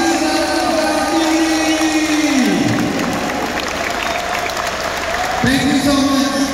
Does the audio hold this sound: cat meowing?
no